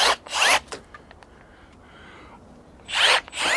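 Milwaukee M12 cordless pruning shears snipping branches, two short bursts of motorized cutting near the start and another pair near the end, separated by a quiet pause.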